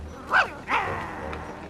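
A dog in a French animated cartoon gives two quick barks, the first sharp and the second a longer yelp, close and moderately loud over a low background hum.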